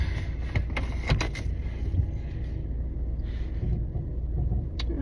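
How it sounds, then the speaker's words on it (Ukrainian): A car drives past on a street outdoors: a steady low rumble runs throughout, with a few sharp clicks and knocks near the start and a brief tick near the end, and no voices. "машинка проїхала."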